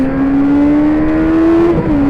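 Racing sidecar motorcycle at an AHRMA practice session at Barber in 2021, engine pulling steadily under throttle along the track, one continuous close, loud drone with a rising pitch and a brief dip near the end.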